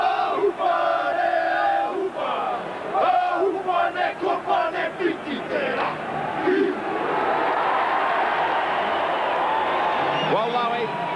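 New Zealand Kiwis perform the haka before the 1991 first rugby league test against Australia, rhythmic shouted chants and stamps rising over a roaring stadium crowd, then giving way to sustained crowd noise.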